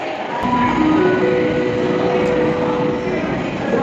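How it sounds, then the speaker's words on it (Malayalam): A train rumbles steadily nearby, a broad constant roar with faint high tonal whines, as an airport metro rolls into a station. "മെട്രോ വന്നു"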